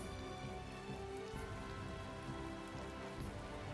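Steady rainfall in the Tales of Vesperia video game, a continuous hiss of drops on surfaces alongside faint background music, with no speech.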